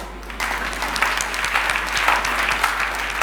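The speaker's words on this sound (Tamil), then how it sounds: "கைத்தட்டு" A church congregation at a Sunday service claps together in a steady, dense burst of applause that carries through the whole moment at close range.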